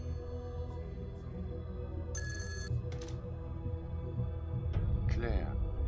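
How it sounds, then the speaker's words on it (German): A telephone bell rings in an indie horror video game, one short bright burst followed by a quieter echo, set against a low ambient rumble, with someone speaking briefly near the end. "Das Telefon klingelt."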